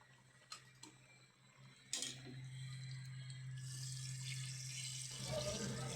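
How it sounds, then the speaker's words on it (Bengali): Chickpea greens rinsed under a running kitchen tap, a faint trickle with a few soft clicks that swells into a steadier, louder gush of water over the last few seconds. "এই যে বুটার শাক ধুইয়া নিছে"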